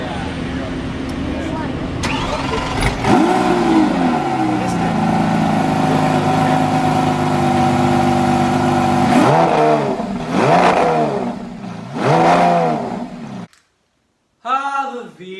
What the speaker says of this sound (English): Now on to my favorite V configuration engine of the lot, the V12.